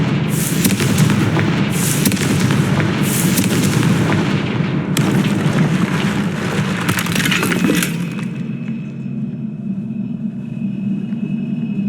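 Confringo spell blasts in Hogwarts Legacy: a sustained barrage of booming explosions with crackling, glassy debris over a heavy low rumble, loud and close, before fading into a quieter hum.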